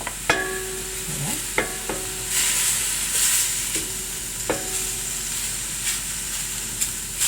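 Sliced bell pepper and garlic sizzle gently in a pan with a steady, soft frying hiss, while a utensil stirs and clinks against the pan a few times.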